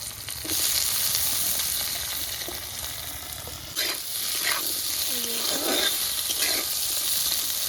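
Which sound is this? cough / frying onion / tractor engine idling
frying onion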